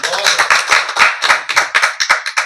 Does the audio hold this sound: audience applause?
yes